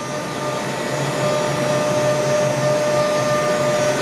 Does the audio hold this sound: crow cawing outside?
no